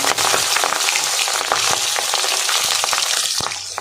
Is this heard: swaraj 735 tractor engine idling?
no